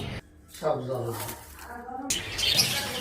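Young Pakistani Alexandrine parakeets (chandana) at Mirpur bird market chirp in short high calls, mixed with a person talking nearby and busy market noise.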